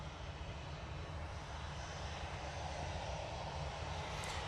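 Ryanair airliner at Manchester Airport, bound for Seville, giving a steady, fairly faint engine roar that holds evenly throughout with low rumble underneath.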